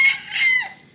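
A rooster gives a short, high crow, close by and fairly loud, the call rising and then trailing off within about a second.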